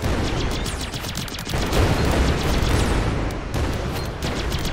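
Rapid overlapping blasts from self-destructing enemies in the Greedland video game form a loud, crackling barrage that drops briefly and then surges again.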